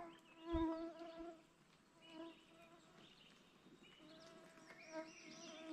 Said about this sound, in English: Oh no, there's a couple around still.